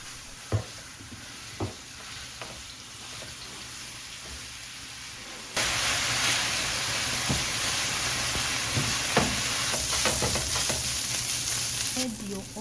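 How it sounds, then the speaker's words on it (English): Venison fries in olive oil in a pan on a stove, a steady crackling sizzle that starts softer with a few clicks and knocks, then jumps to a loud, dense hiss for the rest of the clip. "Start by frying your venison until it browns."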